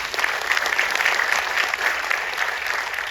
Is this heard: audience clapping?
yes